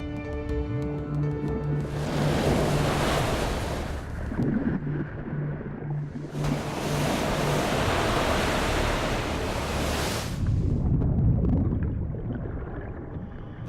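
Huge waves crash in a rough, stormy sea, two long roaring surges of broadband surf rising and falling, loud and close with no voices.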